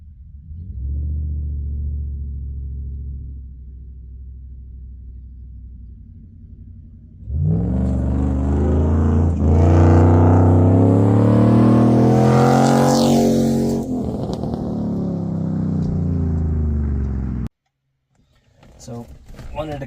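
Cab interior of a third-generation Ram 1500 truck fitted with Fox 2.0 shocks while driving: a steady low engine and road drone that swells into a louder, rising rev partway through, then cuts off abruptly near the end.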